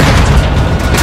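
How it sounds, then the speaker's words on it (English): RPG explosion from Call of Duty Modern Warfare 2 gameplay: a loud, sustained low boom filling the clip, dense and rumbling throughout with no distinct separate blasts. "RPG!"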